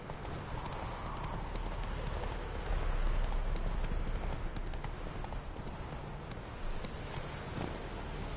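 A horse gallops in The Witcher III: Wild Hunt, with steady, continuous clip-clop hoofbeats close by over a soft windy background and no talking.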